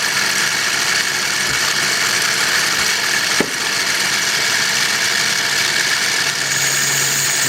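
A metal-cutting machine runs at 7,000 RPM in a workshop and cuts into metal with cutting fluid applied. It gives a loud, continuous whine and grinding hum, with a brief clunk partway through.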